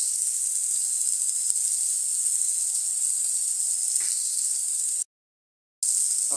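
Mustard paste sizzles in a pan of oil for a Bengali Bhola fish curry, a steady, bright hiss running close and continuous, briefly cut to silence before it resumes.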